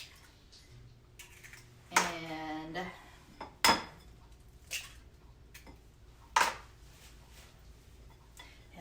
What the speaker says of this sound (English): And then you stir it all in and make it nice and smooth.